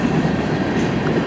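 A long mixed freight train passes close by on a cold winter evening, a loud, continuous rumble and rattle of rolling cars with steady clickety-clack and no voices.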